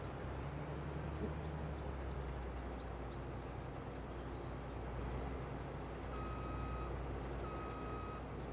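A combine harvesting soybeans rumbles steadily with a loud, close engine drone, and near the end its 50% grain-tank buzzer sounds two sustained electronic beeps over the machinery.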